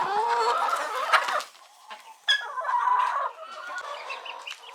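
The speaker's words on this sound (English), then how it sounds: "So the chicks are doing fine." Chickens and young chicks cluck and chatter nearby in a busy, continuous stream, with sharper calls standing out now and then and a brief lull partway through.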